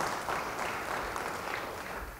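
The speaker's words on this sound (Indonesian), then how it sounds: "Beri tepuk tangan bagi dia." Audience applause during a church service sermon: a steady wash of many hands clapping for about two seconds, even in loudness, with no voices on top.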